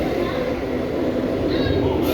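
Icebreaker roller coaster train rumbling past at a Florida theme park, a steady loud roar with a brief hiss near the end, crowd voices mixed underneath.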